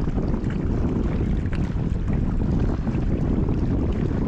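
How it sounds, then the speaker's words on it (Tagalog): Strong wind buffets the microphone on a fishing boat off Oman, a steady loud roar of wind noise and rushing water filling the whole stretch without pause. "Malakas talaga hangin."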